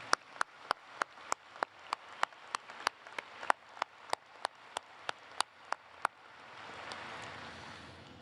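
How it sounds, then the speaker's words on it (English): Applause at a university commencement ceremony for the color guard and commencement band: steady, evenly spaced single claps ring out clearly for about six seconds, then give way to a soft, diffuse wash of crowd noise. "How about we have a round of applause for them?"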